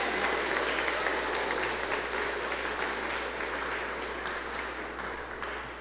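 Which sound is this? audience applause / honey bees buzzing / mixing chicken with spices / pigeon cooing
audience applause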